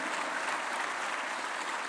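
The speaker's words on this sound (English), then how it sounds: "A big round of applause to the two of them." Applause from the audience at the India Startup Festival valedictory function, a dense continuous patter of many hands clapping at an even level throughout, with no break or voice over it.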